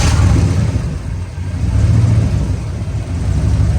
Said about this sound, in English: And if my associate will start the truck